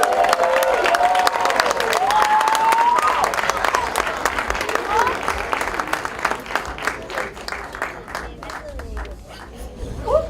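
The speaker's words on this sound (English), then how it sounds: "Warm applause to His Highness, the Black Panther." A large crowd applauds loudly, sustained clapping with some cheering and whistles that gradually thins out toward the end.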